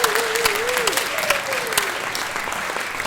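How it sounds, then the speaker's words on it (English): Steady applause from a large concert hall audience at a symphonic and jazz band concert fills the space, with a faint tone wavering above the clapping early on. "So give that a round of applause."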